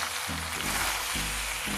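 Pasta frying in a pan for a homemade Assamese-style recipe, a steady close sizzle with a low stirring scrape that rises and falls every half second or so, heard alone without talk.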